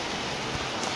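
Heavy rain falls in a continuous dense hiss, a steady close wash of drops with no breaks and no voices.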